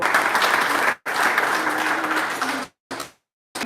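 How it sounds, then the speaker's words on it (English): An audience claps at a live celebration honoring people connected with a community figure, a dense round of applause broken by two abrupt cutoffs, with a short final burst near the end. "if I can have a round of applause for everyone that Mrs. Samuels has connected with"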